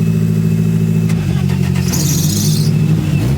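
A twin-engine Saab car producing over 1000 BHP revs hard at close range, its loud engine tone shifting and climbing through a burst of throttle, with a squeal near the end and no talking.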